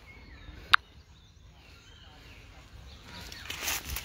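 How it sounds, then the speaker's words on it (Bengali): A single sharp, loud honk-like call from geese on a lake in Binodia Park, Jashore, rises briefly over a quiet outdoor background that later gives way to a soft rushing noise. "লেগের মধ্যে অনেক রাজহাঁস।"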